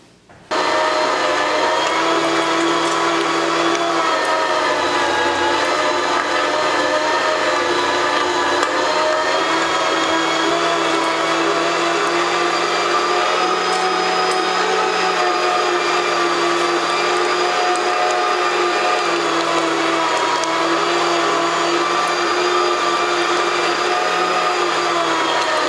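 A meat grinder churns pork trimmings for breakfast sausage, a loud, continuous motor drone with a steady tone running unbroken throughout, close by with no talk.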